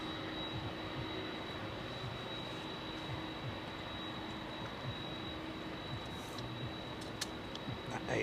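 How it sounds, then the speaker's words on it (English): Boeing 737 freighter jet operated by ASL Airlines at East Midlands Airport at night, giving a steady, broad engine roar that holds at moderate level throughout, with a faint high whine above it. "That ASL 737"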